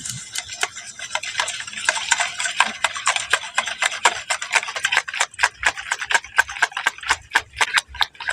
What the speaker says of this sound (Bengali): এবার এই তিনটে উপকরণ একসঙ্গে ভালো করে মিশিয়ে নিচ্ছি